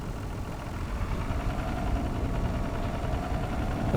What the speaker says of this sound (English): Let's move the tractor outside so it warms up in the open air.